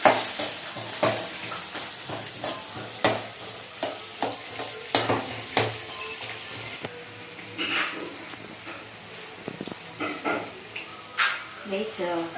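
Onion and green chilli fry and are stirred in a pan, soft sizzling under repeated sharp scrapes and taps of a spoon against the metal, with a voice talking in between.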